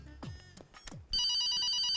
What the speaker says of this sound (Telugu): నాకు ఫోన్ వచ్చేస్తుంది